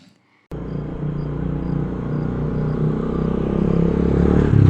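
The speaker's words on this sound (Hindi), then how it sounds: "ट्रैक्टर अब पास आता नजर आ रहा था।" A tractor engine rumbles in after a brief silence, a steady low drone that grows gradually louder as it draws nearer, with no voices.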